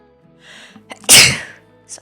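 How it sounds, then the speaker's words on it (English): A single loud, close sneeze from a woman bursts out after a few soft breathy sounds, followed by a brief small sound as it fades, in a quiet room during a late-night drawing stream. "so many sneezes tonight"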